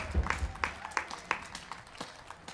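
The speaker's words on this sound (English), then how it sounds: "if you could give them a round of applause for being here" A small outdoor crowd at the Nowoodstock festival claps for the local ambulance crew, scattered individual claps popping out sparsely and thinning toward the end rather than building into a full ovation.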